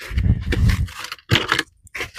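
Keys jangling and clicking against metal while a trailer coupler lock is unlocked, a few bursts of bright metallic rattling separated by short pauses, close-up and alone.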